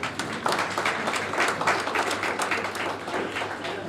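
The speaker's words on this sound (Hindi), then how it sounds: "जोरदार तालियां हो जाए।" An audience at a calendar launch event in Kadapa claps warmly, a continuous patter of many hands with a few sharper individual claps, steady and fairly loud throughout with no speech on top.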